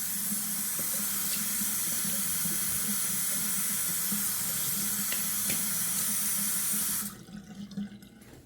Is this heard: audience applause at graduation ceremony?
no